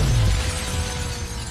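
A car smashes through a large glass window in a Fast & Furious 7 stunt scene, a loud sustained burst of shattering and breaking glass mixed with dense rumbling noise.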